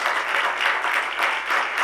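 A devotional hall audience at Sivam claps together, producing a continuous, even patter of many hands that holds at a steady level for the whole short stretch, with no talking on top.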